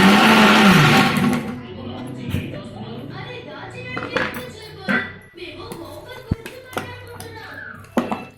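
A mixer grinder whirs loudly in a short burst as it grinds green chillies into a village-style chutney, then stops, followed by a voice talking and light tapping and handling sounds.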